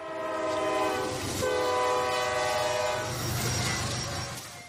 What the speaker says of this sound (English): Locals attempt to wave down a freight train at a level crossing in Elkhart County,